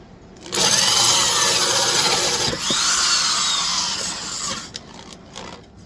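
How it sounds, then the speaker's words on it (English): A power drill cutting a 4-inch hole in a piece of wood, a loud whining grind that holds for about four seconds, dips briefly, then winds down, close with no speech. "So I'm going to put a 4-inch hole in this piece of wood"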